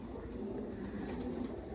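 Pigeons coo softly and continuously in a low, rolling murmur, with a faint steady hum of background noise and no voices.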